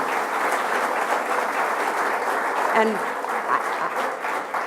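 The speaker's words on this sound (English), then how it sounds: "One more round of applause, Ben." Steady applause from an audience at a health insurance marketplace launch event, a dense continuous wash of clapping at even loudness, with a brief spoken word near the middle.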